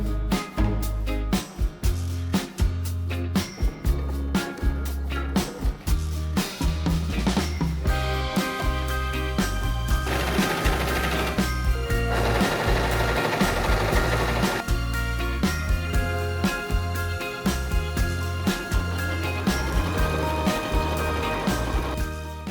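A sewing machine runs seams on a summer shirt in short bursts at first, then longer sustained stitching runs, close and fairly loud with brief pauses between passes.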